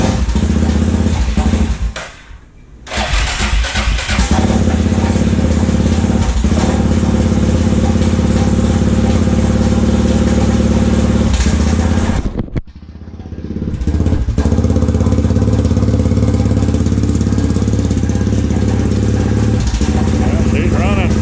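A 2005 Arctic Cat 400 4x4 ATV engine runs steadily and loudly up close, with a dirty carburetor, dipping briefly twice before picking back up; people talk over it.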